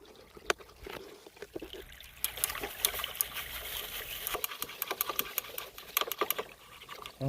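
A gold pan is shaken in creek water, giving a steady wet sloshing and patter with irregular splashes and trickles close by, and no voices.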